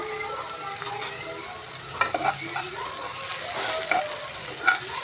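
A constant bright sizzle of onions frying in a pan, with occasional scrapes and clinks of stirring, close and steady.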